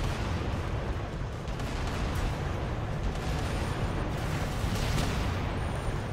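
Continuous wild weapon fire in the video game Halo: Spartan Assault, a dense roar of rapid shots and blasts that stays loud throughout with no talking.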